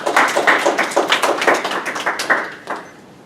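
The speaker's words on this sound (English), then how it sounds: "a warm round of applause." A burst of audience applause, close and loud, with distinct rapid claps that thin out and fade toward the end.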